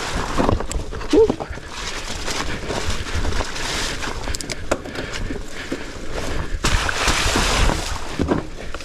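A Norco Bigfoot fat bike splashes through a trail creek crossing, water churning and spraying in a broad, continuous wash with bursts of heavier splashing, close to the rider.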